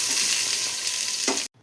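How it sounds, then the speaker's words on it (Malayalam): Sliced onions fry in coconut oil inside a pressure cooker, a loud steady sizzle with a brief stir near the end before the sound cuts off abruptly. "ഇതിലോട്ട് 3 മീഡിയം സൈസ് സവാള സ്ലൈസ് ചെയ്ത് വെച്ചത് ചേർത്ത് കൊടുക്കാം."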